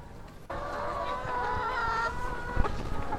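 Hens and roosters on a farm of about 1,300 chickens cluck steadily in a close, continuous chorus, with a few louder calls standing out near the end.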